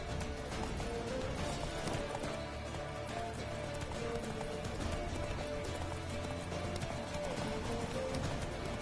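Horse hooves clip-clop at a steady gallop in a PS4 video game, a continuous running rhythm over game ambience, with a brief whinny and no speech.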